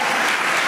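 A church congregation applauds in a dense, steady burst of clapping that stays loud and even throughout, with no voices standing out.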